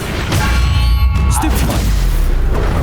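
A Confringo blasting spell explodes during combat in the video game Hogwarts Legacy, a loud low boom that rumbles on under a dense battle din with faint whooshes.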